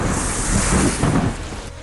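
Thunderstorm with heavy rain pouring steadily and a deep rumble of thunder rolling through, loud and close, with wind buffeting the microphone throughout.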